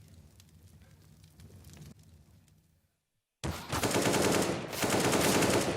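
A Molotov fire in the CS:GO game on the Cobblestone map flares up as a loud, dense crackling roar after a quiet stretch of faint low rumble and a brief silence, sustained to the end.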